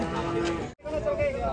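Cow mooing at a cattle market, a loud close drawn-out moo broken by a brief gap, amid crowd noise and talk.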